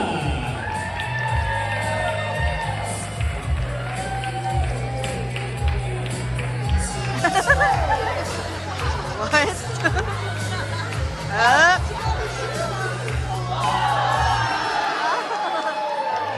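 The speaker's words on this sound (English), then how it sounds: "And now a big round of applause for Daniel's brother and family" Wedding guests cheer and call out over a steady crowd murmur while a low, regular music beat runs beneath, with scattered whoops rising above the hubbub before the music stops near the end.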